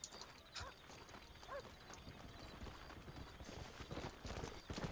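Clip-clopping horse hooves in the Red Dead Redemption video game, an irregular run of soft hoof beats with a brief whinny and faint mechanical clicks, fairly quiet overall.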